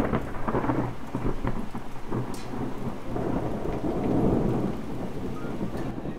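Skellige Storm card effect in the video game Gwent, a loud thunderstorm with heavy rain pouring steadily and rolling thunder building through the middle, no voices.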